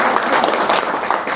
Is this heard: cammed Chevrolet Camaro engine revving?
no